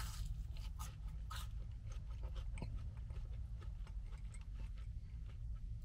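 Crisp crunching of Burger King churro fries being bitten and chewed, plain and without chocolate sauce, a few sharp bites over a steady background hum, close up.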